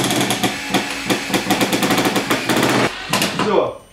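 A Milwaukee cordless screwdriver drives a self-tapping screw in loud, rapid bursts of impact rattling that stop and restart, with a brief pause before one final burst and then a quick fade.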